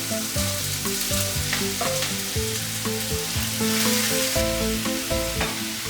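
Ham and onion frying in hot oil in a pan over high heat, a dense steady sizzle with stirring, heard under background music.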